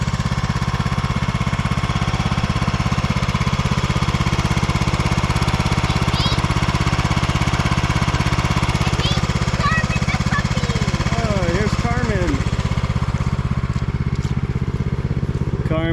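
A Cub Cadet 1170 lawn tractor engine runs at a steady, loud, rapid chugging idle close by, with a faint voice and a few chirps underneath.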